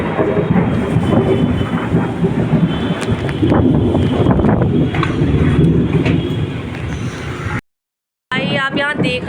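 A thunderstorm breaks over the hills, with heavy rain hissing steadily, thunder rumbling and wind buffeting the microphone. The sound cuts out briefly near the end, then a voice returns.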